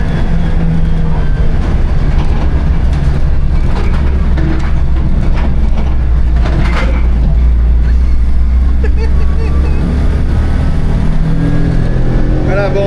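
A Citroën Acadiane van holds second gear on the road, its engine and road rumble droning continuously and loud, with a voice talking over the noise.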